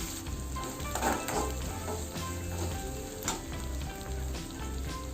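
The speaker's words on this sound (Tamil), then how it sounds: "இப்போ இந்த வெங்காயம், வரமிளகாய், கடுகு உளுத்தம் பருப்பு, சீரகம் எல்லாம் ஒரு 2 minutes நல்லா வதக்கிக்கலாம்." Onions, dried red chillies, mustard seeds, urad dal and cumin sautéing in a pan, a steady close sizzle and fry with occasional stirring scrapes and no talk.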